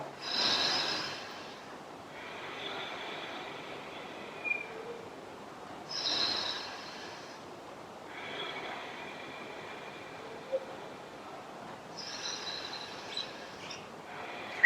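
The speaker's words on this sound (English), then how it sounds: "Taking another 4 breaths here" Slow, deep breaths during a held yoga pose, each long inhale and exhale rising and fading in an even rhythm about every six seconds, close and soft against a quiet room, with no talk.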